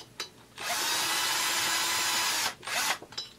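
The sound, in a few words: tool driving in cylinder head bolts on Husqvarna 350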